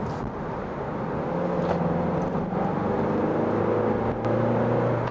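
A 2021 Kia Carnival diesel minivan in sport mode revs higher under acceleration, heard from inside the cabin as a moderate engine whir whose pitch shifts and climbs, with a few brief clicks.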